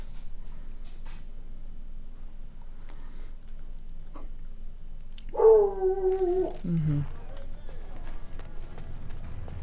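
A dog in the Dragon Age: Origins remaster gives a short, close, tonal bark-whine burst partway through, against an otherwise quiet game background.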